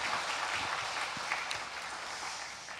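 Congregation applause at a church worship service, a steady wash of many hands clapping together at moderate distance, continuous and even for the whole stretch with no voices standing out.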